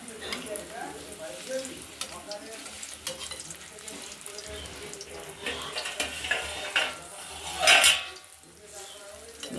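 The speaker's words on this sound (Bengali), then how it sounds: "এবার বক ফুলগুলো ভাজা করছি" Agathi flowers coated in gram flour batter fry in oil in a wok, a continuous low sizzle with occasional utensil clinks and a louder burst of spattering near the end, under faint background voices.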